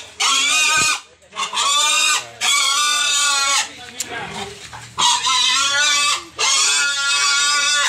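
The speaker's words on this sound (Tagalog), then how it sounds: "Napakaganda ng katawan mga idol ng baboy." Pigs give loud, harmonic squealing calls in long repeated bursts, close by, with short gaps and some noisy shuffling between them.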